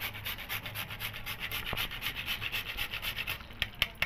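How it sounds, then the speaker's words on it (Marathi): Whole nutmeg is grated by hand for rice pudding, giving quick rhythmic rasping strokes at an even pace, close and fairly faint, with a couple of small knocks near the end. "आता यात मी थोडंसं जायफळ घालते किसून."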